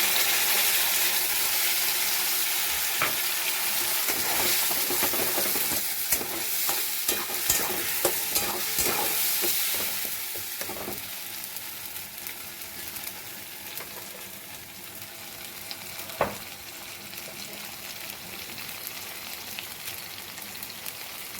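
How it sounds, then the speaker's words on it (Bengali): Ground pointed gourd (patol) paste added to fried onions in a pan, steady sizzling and frying with stirring scrapes, loud at first then settling into a softer continuous sizzle with occasional clinks. "পেঁয়াজটা ভাজা ভাজা হয়ে গেলে এবার আমি বাটিতে যে বেটে রেখেছিলাম পটল বাটাটা দিয়ে দিচ্ছি।"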